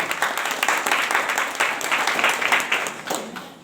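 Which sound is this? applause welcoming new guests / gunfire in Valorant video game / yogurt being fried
applause welcoming new guests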